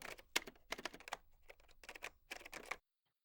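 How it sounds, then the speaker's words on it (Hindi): Rapid bursts of computer keyboard typing while entering Java code, close and clear, clattering in quick clusters with short pauses before stopping near the end. "तब मैं प्रिंट करने के लिए system.out.print को टाइप करूंगा"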